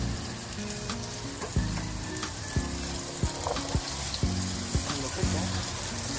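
Freshly cooked rice frying in a pan for garlic fried rice, a steady close sizzle with regular sharp clinks of a spatula against the pan at roughly one-second intervals.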